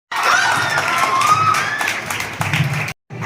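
Audience applause at a Mother's Day celebration: a steady wash of clapping and crowd noise, loud and sustained for about three seconds before cutting off briefly and resuming.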